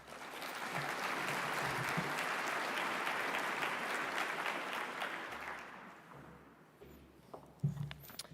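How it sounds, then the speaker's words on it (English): Applause from a conference audience welcoming a keynote speaker at a stormwater conference and expo, a broad wash of clapping that swells, holds for several seconds, then fades out, followed by a few faint footsteps. "A round of applause"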